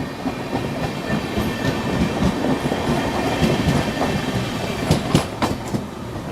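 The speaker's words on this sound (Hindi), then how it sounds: "लो शकौर बस्ती धनबाद स्पेशल ओवरटेक मार के यहाँ पर पैरेलल अपन को निकल गई आगे।" Shakurbasti-Dhanbad special train overtaking on a parallel track, loud continuous rolling rumble with clickety-clack wheel beats and sharp metallic clicks building toward the end.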